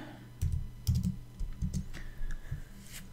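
A computer keyboard is typed on during a Google Sheets spreadsheet lesson: a short series of close, clustered keystrokes comes in uneven bunches, with no talking.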